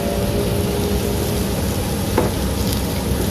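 Char kway teow ingredients of flat rice noodles, dark soy sauce, soy sauce and pepper are stir-fried in a pan, giving a continuous loud sizzle with scraping and stirring, close and without speech.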